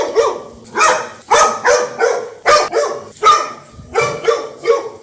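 Two dogs, one desi and one foreign breed, bark repeatedly at a cheetah, loud and close, in a quick rhythm of about ten sharp barks over five seconds.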